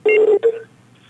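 Telephone keypad tones during a radio call-in show, two long touch-tone beeps and then a shorter one in quick succession, loud and clear with nothing else behind them, fading into near silence.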